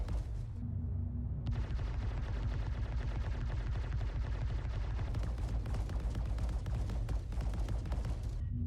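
Rapid, continuous fire from size 4 Omnisky 11 ship cannons in a video game, a dense stream of loud bursts and booms rolling steadily without a break.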